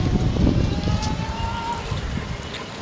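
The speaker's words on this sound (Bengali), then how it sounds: "দেখুন কি সুন্দর হাওয়া দিচ্ছে" Wind blows outdoors on a street on a stormy day, a continuous loud rumbling rush buffeting the microphone.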